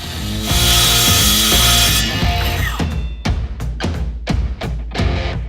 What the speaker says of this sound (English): I use the circular saw to cut straight edges in the plywood to make the sides.